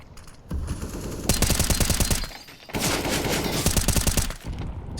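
Sustained automatic gunfire spam in CS:GO on the Nuke map, two long rapid bursts of shots separated by a brief pause, loud and continuous.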